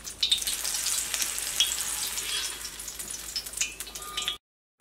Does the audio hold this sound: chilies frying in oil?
yes